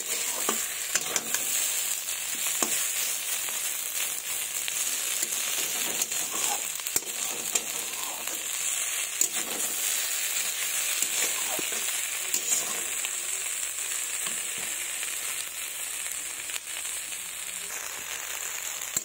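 Fresh beans sizzle and crackle steadily in a hot pan while being stirred, a continuous close frying hiss with occasional scraping stir strokes throughout.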